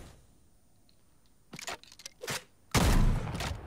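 Ranger shotgun reload in Fortnite: a few sharp mechanical clicks and clacks at the start, then a loud burst of noise near the end.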